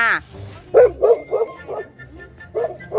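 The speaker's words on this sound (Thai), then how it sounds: "เพลินไม่เห่า" A dog barks in a quick series of sharp yips and barks, close and fairly loud, while someone talks over and between them.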